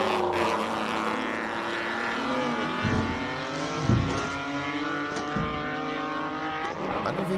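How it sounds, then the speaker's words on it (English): Alfa Romeo 156 GTA race car at a classic car hillclimb, its engine roaring loudly as it passes with rising and falling revs and sharp gear-change bursts. "Just listen to this engine coming through here."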